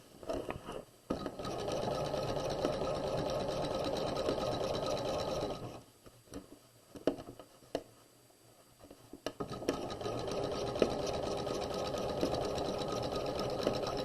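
A sewing machine stitches a set-in sleeve onto a garment in two long, steady motor runs separated by a pause filled with light handling clicks and fabric rustle.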